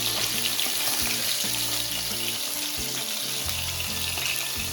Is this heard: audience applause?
no